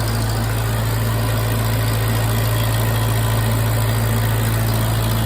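Vintage Farmall Cub tractor engine idling steadily after a hand crank start on a cold 32-degree day, a close, even low rumble with constant vibration and no talk.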